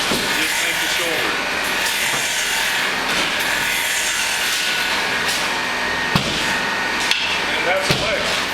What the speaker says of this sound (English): I'm going to turn the tool in the direction I want to go, rub the bevel, and just make the shoulder.